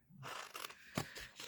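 Scissors cutting around a piece of adhesive-backed cardstock, giving a few quiet close snips and rustling crunches in quick succession.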